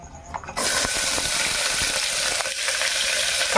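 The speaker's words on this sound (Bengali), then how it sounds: "এবার এর মধ্যে এই পেঁয়াজের কুচিগুলো দিয়ে দেবো" Chopped onions drop into hot oil in a pressure cooker already tempered with nigella seeds and dried red chilli, bursting into a loud, steady sizzle after a brief quieter start, with no talking over it.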